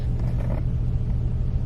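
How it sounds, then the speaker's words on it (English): A big truck rumbles close behind a car, a steady deep engine drone heard from inside the cabin, low and constant for the whole moment. "Y'all see this big ass truck in the back of me?"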